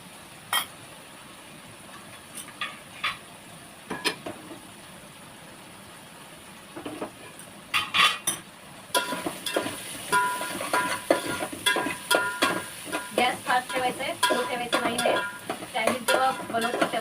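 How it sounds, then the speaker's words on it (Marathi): Plain eggs being scrambled into bhurji over high heat in a pan for Chinese chicken fried rice: scattered spatula taps at first, then steady scraping, clinking and a soft sizzle, close and fairly loud. "भुर्जी म्हटल्यावर कांदा टॅमॅटोची भुर्जी नाही नुसतं अंड्याची बनवायची"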